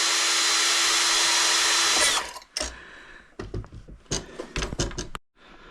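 A power drill with a long drill bit whines steadily for about two seconds while fitting an RC boat's rudder, then stops, followed by clunks and clatter of tools being handled.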